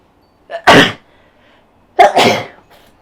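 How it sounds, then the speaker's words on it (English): Two loud, close sneezes about a second apart indoors, each with a quick sharp intake followed by a forceful burst, then quiet. "I'm gonna sneeze again."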